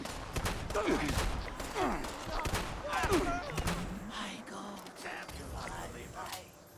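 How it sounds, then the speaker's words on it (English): Shotgun blasts in the video game Fallout 76, several sharp bursts fired at close range in quick succession, mixed with mechanical clatter and game effects. "Of course, it being a shotgun, we're going to get up as close as we can."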